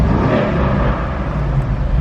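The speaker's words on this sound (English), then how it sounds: "Let's go ahead and put it in race and hear that exhaust." Steady deep exhaust drone from a 2019 Mercedes-AMG GLC 63 4MATIC in race mode, loud and close, holding a continuous throaty rumble with no talk over it.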